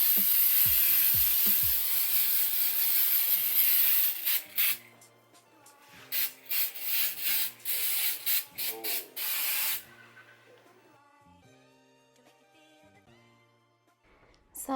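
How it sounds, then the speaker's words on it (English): Hissing bursts of spray paint, first a long continuous spray and then a series of short spurts, with a soft musical backing underneath. "I'm gonna start spraying"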